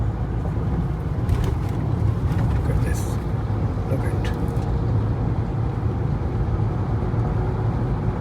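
A car's steady low road rumble and engine drone inside an automatic vehicle with a radar system, continuous and fairly loud, with occasional faint voices and road noises over it.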